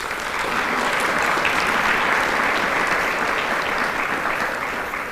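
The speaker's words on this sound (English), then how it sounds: "Give all of them a round of applause," A dense, even round of audience applause for event staff at the Fountain Hills State of the Town Address fills the space, sustained and loud before tapering slightly.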